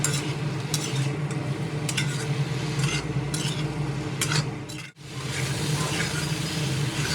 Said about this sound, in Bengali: হালকা ভাপিয়ে রাখা শোলা কচু ও পরিমাণ মতো হলুদ গুঁড়ো দিয়ে খুব ভালোভাবে নেড়েচেড়ে আবারও মিনিট 3 সময় ধরে কষিয়ে নেব